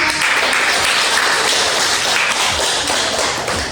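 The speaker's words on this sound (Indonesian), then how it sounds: "Anda semua terbiasa tepuk tangan." Students in a classroom clap together during a physics lesson, loud and steady applause filling the whole short stretch.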